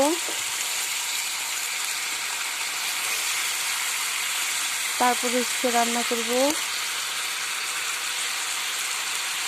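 Chicken liver and chicken feet frying in a pan give a steady, close sizzling hiss throughout, while someone speaks briefly over it.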